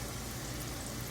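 Yellow squash fries in hot grease, a steady dense sizzle with crackling, close and uninterrupted for about a second.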